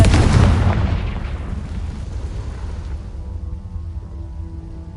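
A Confringo fire spell in the Hogwarts Legacy video game sets off a loud booming explosion at the start, and its rumbling blast tails off into a low lingering roar over several seconds.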